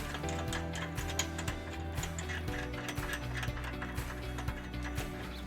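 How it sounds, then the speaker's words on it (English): A ratchet clicks in rapid, repeated runs of ticks as it tightens trailer hitch bolts on a 2016 Honda Fit, close and steady throughout, with no speech. "Now we're going to torque all the bolts to manufacturer specifications."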